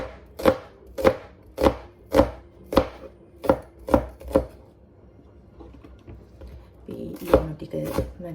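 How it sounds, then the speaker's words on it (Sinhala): A knife chops onions on a board in a home kitchen: eight evenly spaced, sharp, close knocks, then a pause and a few more quick cuts, with no talking. "ලුණු ටික මනින් කපාගෙන"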